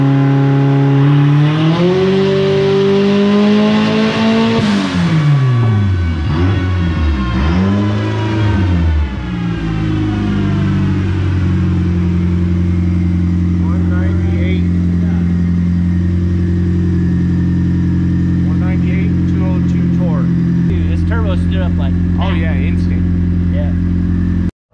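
A turbocharged car engine on a tuning dyno revs hard through sweeping pulls, rising and falling loudly, then settles into a steady close drone with chatter and clicks late on.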